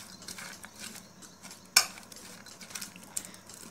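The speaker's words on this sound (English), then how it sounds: "Now I will mix it nicely." Food with lemon juice added is stirred in a bowl, giving quiet scraping and rustling, one sharp clink of metal against the dish partway through and a few lighter taps, with no talking.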